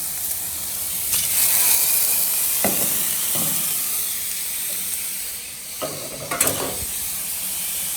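Bacon and onion fry on a hot griddle over a fire, giving a steady close hiss and sizzle broken by occasional scrapes and taps of a spatula.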